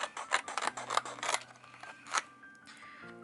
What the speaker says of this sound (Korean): 가위로 사각형으로 한번 오려 볼게요.